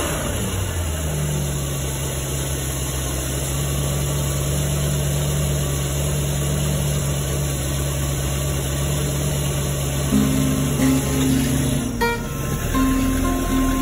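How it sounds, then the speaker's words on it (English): A Mercury MerCruiser V8 boat engine idles steadily after a cold start, a loud, close, continuous drone with a constant low hum and a brief rise in tone near the end. "Fired right up, and that engine was cold."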